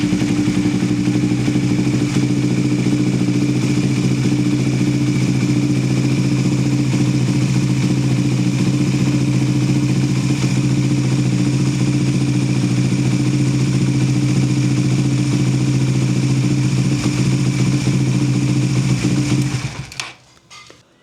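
A Suzuki GSX 150 motorcycle engine idles steadily after a cam chain tensioner adjustment, a close, even mechanical drone with light ticking that runs for about twenty seconds and then cuts off abruptly.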